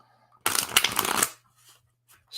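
Tarot cards are shuffled in one brisk, close riffling burst lasting under a second, followed by a quiet low hum and a couple of faint soft rustles.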